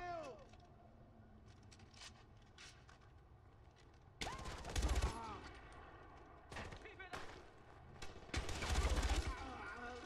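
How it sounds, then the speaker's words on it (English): Bursts of automatic gunfire from the video game Far Cry 4, with sustained fusillades around the middle and near the end, loud and punchy over a steady game background while someone talks. "Stop shooting me."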